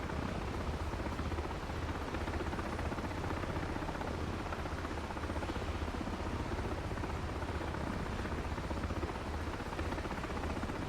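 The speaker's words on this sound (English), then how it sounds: "I love these choppers." An MH-60 Blackhawk helicopter in Microsoft Flight Simulator 2024 drones steadily throughout, a dense, continuous rotor and engine roar with a low thumping beat, loud and unbroken with no talk.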